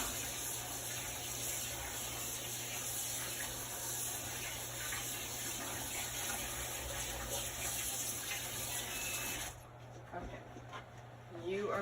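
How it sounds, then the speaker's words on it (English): Water hisses in a steady spray onto an ink mat for Chalk Couture inking, with a dense, constant rush that stops near the end. A faint voice sits under it. "if I'm just going to spray it with water"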